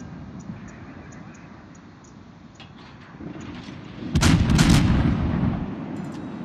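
Naval artillery fire from a tier 8 cruiser in World of Warships, a deep booming salvo rising out of steady engine and sea ambience, with softer distant thuds beforehand.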